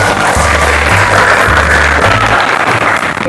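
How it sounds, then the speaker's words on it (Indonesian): A classroom of students claps hard together on the teacher's request. The dense, noisy clapping is loud and close, holds steady for a couple of seconds, then thins out. "Tepuk tangan yang keras."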